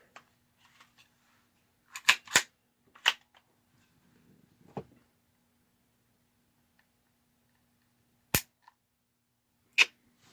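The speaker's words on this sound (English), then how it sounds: "Nice hard firing pin drop." A Hi-Point C9 9mm pistol gives sharp metallic clicks as its firing pin drops, a few crisp snaps separated by quiet gaps, heard close and alone.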